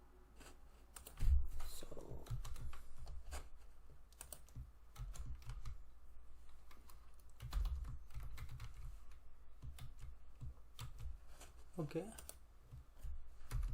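A password is typed on a computer keyboard as a run of quiet, irregular key clicks, with a few soft words spoken partway through.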